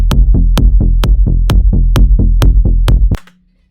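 A loud, raw, unmixed kick drum and Serum bass in FL Studio, thumping together in a steady four-on-the-floor pattern with bright clicky attacks and a muddy low end, stopping abruptly after about three seconds.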